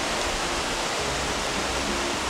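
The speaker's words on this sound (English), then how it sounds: "Stopped by a little waterfall." A small mountain waterfall on a hike near Lake Louise in Banff, Alberta, gives a steady, close rush of falling water that fills the whole moment without a break, with no voices.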